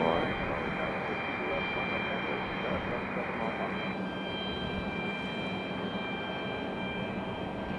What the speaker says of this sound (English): CRJ is headed to JFK. This one, Endeavor 5009. CRJ 900 LR.